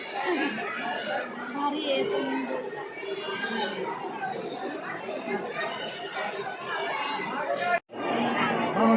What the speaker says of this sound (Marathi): बघा, एवढी सारी गर्दी आहे.